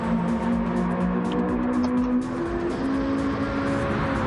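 Race cars on the front straightaway during a final lap, a steady loud engine drone with sustained tonal whine and shifting pitch, close and continuous with no talk.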